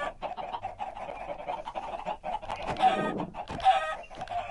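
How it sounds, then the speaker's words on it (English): Minecraft chickens clucking in a blocky game world, a busy run of short clucks and squawks overlapping at moderate volume, with a couple of sharper calls near the end and no talk over them. "Anyone want to adopt all these chickens?"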